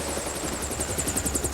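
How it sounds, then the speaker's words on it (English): A helicopter idling on the ground in County Kerry, Ireland, its rotor throbbing steadily with a rapid high whine pulsing on top, close and continuous. "Just get away from the chopper."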